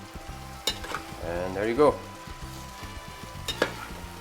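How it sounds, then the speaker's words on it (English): Penne pasta finishing in a pan of zucchini and shrimp sauce, stirred with a steady sizzle and soft scraping clatter, fairly close, with a brief spoken remark partway through. "We are going to finish the cooking of the pasta inside the sauce"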